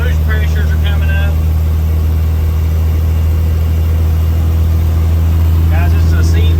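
A Caterpillar C13 engine in a truck pulling a walking-floor trailer building boost, a loud, close, steady low drone and hum, with a voice talking faintly over it in places.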